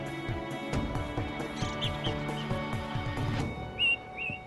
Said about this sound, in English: the ring ouzel finally makes an appearance, perching on a rock which it's using as a singing post.